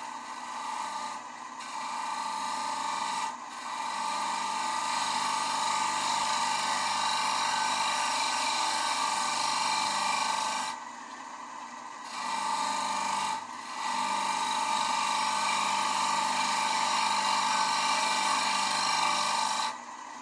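A lathe tool cuts a soft wood bowl with a sustained, rasping hiss over a motor drone, close and steady, easing off briefly around one, three, eleven and thirteen seconds before biting in again.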